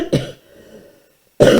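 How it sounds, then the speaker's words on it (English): A man coughs twice, one short harsh cough near the start and another heavier cough at the end, with a quiet pause between them and no speech. "do apologise for my coughing."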